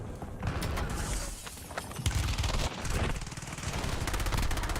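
Shotgun blasts and heavy in-game gunfire in the video game Warzone, dense and loud throughout with overlapping booms and mechanical clatter.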